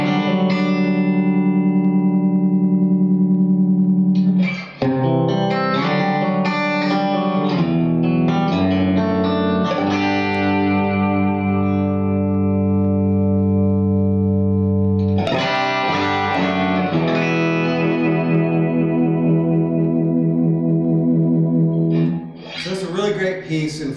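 Overdriven electric guitar through a Retro Channel boost preamp pedal playing sustained chords and riffs with a thick, boosted tone, loud and continuous, with brief pauses between phrases.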